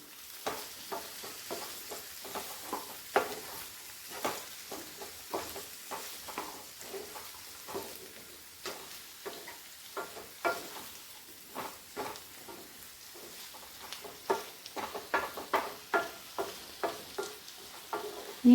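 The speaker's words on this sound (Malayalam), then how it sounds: "ഈ സമയത്ത് നമുക്ക് ഉരുളക്കിഴങ്ങ് കട്ട് ചെയ്ത് വെച്ചിരിക്കുന്നത് ഇട്ട് കൊടുക്കാം. ഒന്ന് ഇളക്കി കൊടുക്കാം." Cut potatoes stirred while frying in a pan, a faint low sizzle with repeated soft spoon scrapes and taps in an irregular rhythm, quiet and close, no speech.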